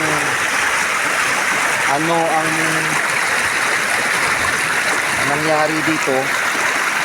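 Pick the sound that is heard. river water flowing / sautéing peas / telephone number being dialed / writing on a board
river water flowing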